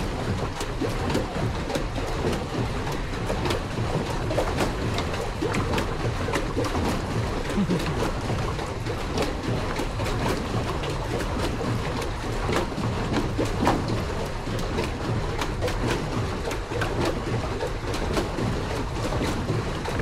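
Steady churning water and wind rumble from a small pedal boat being pedaled across Clear Lake, Manitoba, continuous and fairly loud throughout.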